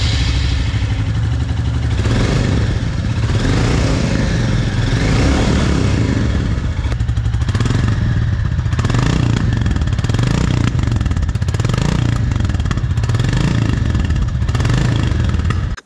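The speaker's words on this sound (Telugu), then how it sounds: "సో విన్నారు కదా, first impression engine note and exhaust note ఎలా అనిపించిందో" A 2025 Royal Enfield Classic 350 single-cylinder motorcycle rides along, its engine and exhaust thumping in a loud, steady low rumble with clattering mechanical texture and occasional swells of throttle throughout.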